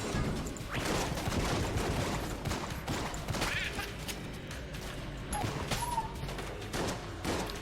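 A portable turret in Enter the Gungeon firing rapid, light shots: a quiet, steady patter of small pops blended with other game effects and a soft background music bed.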